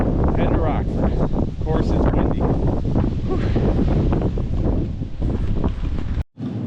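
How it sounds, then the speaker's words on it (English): Strong gusty wind buffets the microphone at a campground in Indiana Dunes State Park, a loud continuous roar with rustling that cuts out abruptly just before the end. "Of course, it's windy."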